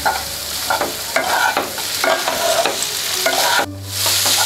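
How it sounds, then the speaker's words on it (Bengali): Masala Maggi noodles tossed and fried in a pan over a high flame, with rhythmic scraping strokes against the pan over a loud, constant sizzle. Near the end the sizzle drops back and a tonal sound comes in. "হাই ফ্লেমে খুব ভালো করে নাড়াচাড়া করব"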